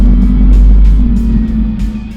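A 1955 rat rod with a quad-tip carbon exhaust and a Whipple 2.9 litre supercharger kit idles and burbles with a deep, loud, steady low rumble, close by and alone.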